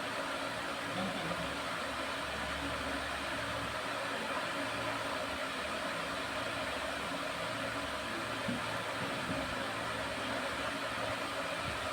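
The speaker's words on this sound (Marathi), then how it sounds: "कांदा ना छान गुलाबी रंग होईपर्यंत आपल्याला फ्राय करायचा आहे।" Sliced onions and garlic frying in a pan, a steady, dense sizzle that stays even and fairly loud throughout with no talking over it.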